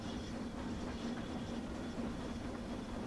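An LMS Compound steam locomotive from Train Simulator 2014 rolls along steadily, a continuous low rumble with a faint rail hum and hiss, no talking.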